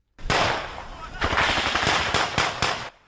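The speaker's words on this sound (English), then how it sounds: "Soldiers in a suburb are pinned down by a Russian barrage." Close, loud bursts of automatic gunfire crack in rapid succession, then separate sharp shots follow, during the battle for Kyiv as soldiers in a suburb are pinned down by a Russian barrage.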